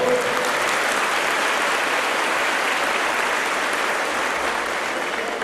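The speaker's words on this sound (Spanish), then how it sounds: "Pido un aplauso para nuestro alcalde Wilson Castiblanco, por favor." Sustained applause from a crowd at a public event for a mayor, a dense steady clatter of many hands that keeps going without a break from start to finish.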